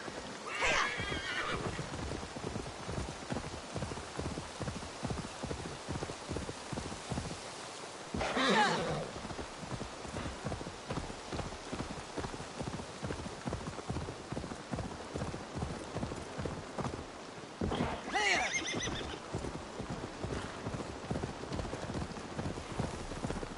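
Continuous clip-clop of horse hooves at a steady trot, with three loud neighs breaking through at intervals, in the video game Assassin's Creed Valhalla.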